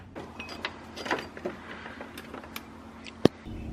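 A 15mm wrench loosens the belt tensioner on a 1989 VW MK2 Jetta diesel, giving faint close-up metallic clicks and scrapes with one sharp clank near the end against a quiet workshop background.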